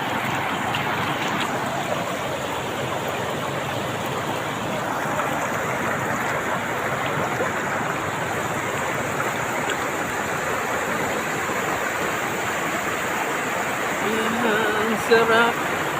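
The Labi River at Bongabon, Nueva Ecija, rushes with clear water in a steady, broadband wash that stays constant and fairly close for the whole stretch, with a brief bump near the end.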